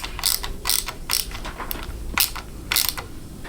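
Small ratcheting, clicking mechanical bursts come from a clutch lever being fitted to a 1982 Honda XL 250R motorcycle during restoration, close and fairly quiet, in several irregular short clusters.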